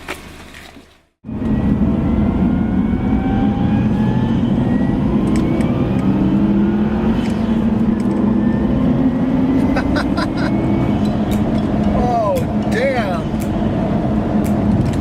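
A Subaru Legacy GT accelerates hard under turbo boost after a brief silence, its engine note rising steadily in pitch through the gears, heard from inside the car with a person talking over it.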